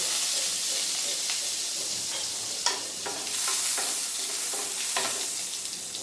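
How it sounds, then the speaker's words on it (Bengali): Chopped garlic hits hot oil in a pan while cooking chilli chicken, releasing a loud, close, steady sizzle laced with crackles and brief spattering pops. "এবার আমি রসুন কুচি তেলের মধ্যে দিয়ে দেব।"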